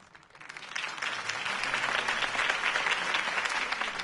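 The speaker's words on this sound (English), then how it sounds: "If only Mr. Wayne, my campaign's largest backer, could have heard that applause" Crowd applause after a campaign speech in the Batman Telltale Series video game, a steady roar of clapping that swells in and holds with no talk over it.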